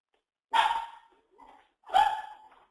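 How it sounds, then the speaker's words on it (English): Dog barking indoors at home after the doorbell rang: two loud, close barks about a second and a half apart with a softer yip between, and no talking. "We got dogs."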